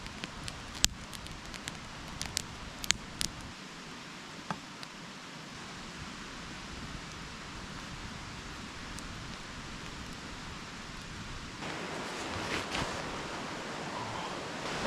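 Steady broadband rush of a waterfall beside a quiet solo night campsite, loud and continuous with a few sharp clicks and handling knocks early on, swelling slightly louder toward the end.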